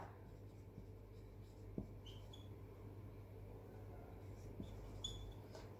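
Faint pen strokes scratch on paper as marks are written by hand, soft and intermittent over a steady low hum, close and quiet.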